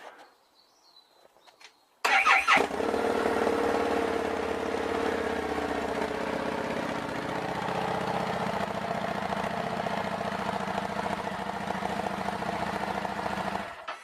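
A 2017 Harley-Davidson XG750 Street motorcycle with a new exhaust fires up after a moment of quiet and settles into a steady, deep idle, close by and continuous.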